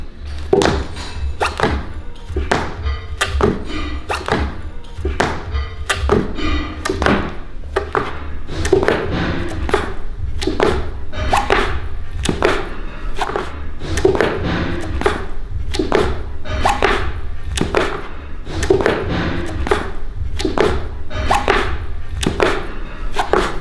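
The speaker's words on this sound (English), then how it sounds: "What I'm gonna start off with is footsteps right here." Footsteps from a football warm-up drill land as sharp, evenly spaced thuds on a hard floor, around twenty-five in a steady quick rhythm, close and loud with no talking.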